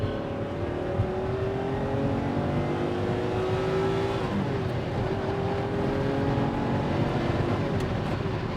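A 1986 Ferrari Testarossa's flat-12 engine pulls hard from inside the cabin, a dense, steady roar with rising harmonics that dip briefly at a gear change before climbing again.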